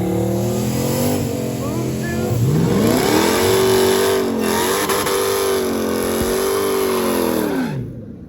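A supercharged drag car's engine revs hard and close, rising and falling through several throttle blips before cutting off abruptly at the end.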